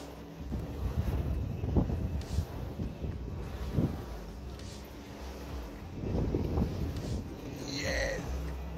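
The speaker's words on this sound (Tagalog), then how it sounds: "Sarap ng hangin!" Wind gusting across a microphone, a steady low rumbling roar that swells and eases in uneven gusts throughout.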